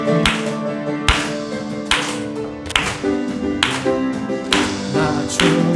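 A church congregation at a Sunday worship service claps along in time while singing a hymn, sharp unison claps landing at an even beat over the sung melody and accompaniment.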